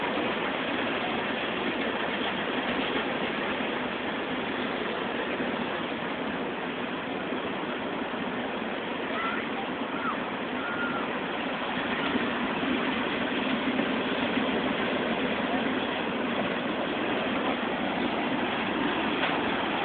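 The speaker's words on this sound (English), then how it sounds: "This is what happens when a train goes by the playground and Pampy works on trains." A train rumbles past a playground in a long, steady drone of engine and rolling wagons at a moderate distance, staying even for about twenty seconds with no talk.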